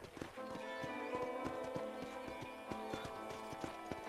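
Horse ridden in Red Dead Redemption, hooves clip-clopping in a steady trotting rhythm over a tonal game music bed, fairly quiet.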